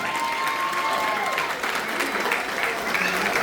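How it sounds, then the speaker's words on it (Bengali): At a 75th birthday celebration with about 200 guests, the guests applaud in a steady round of clapping, with faint voices and cheers mixed beneath it. "ওদের সকলের জন্য একটা হাততালি দিয়ে এই সারপ্রাইজটা এমনভাবে করার জন্য"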